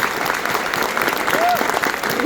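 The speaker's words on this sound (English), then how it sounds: "Give a round of applause for Jackie Vanetti" An audience claps for Jackie Vanetti at a hall of fame speech, a dense steady round of applause from a crowd, fairly loud and continuous throughout.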